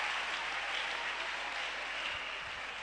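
A church congregation applauds and acclaims together in a dense, continuous wash of clapping that holds steady and loud throughout, with no distinct voices standing out.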